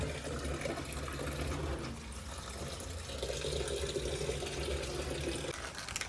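Continuous rushing of water pouring into a washing machine drum, steady and close, with a low mechanical hum underneath and no talking.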